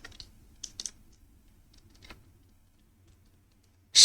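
A few light, sparse keystrokes on a computer keyboard while an SQL query is entered, soft clicks separated by pauses, ending in a louder burst.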